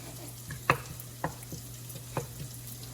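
Bacon and tomato sizzle softly in a pan while being stirred, giving a faint steady fry with three or four distinct scraping clicks of the utensil and no talking.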